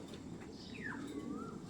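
Racing pigeons of a Pipa bloodline call from a loft with a single sweeping, whistle-like note over a steady background hum, fairly close and moderately loud.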